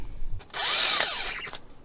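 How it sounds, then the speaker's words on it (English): A power drill with a 3/8 bit bores through a panel inside a 2020 Ford Super Duty F250/F350 pickup: a loud, steady high whine that lasts about a second, then cuts off abruptly. "so I'm using a 3/8 drill bit, and I'll just go right through here."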